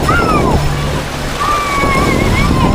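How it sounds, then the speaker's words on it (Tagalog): Strong waves slosh and splash against a boat or shore in a steady, loud wash, with faint voices mixed in. "Grabe, ang lakas ng alon."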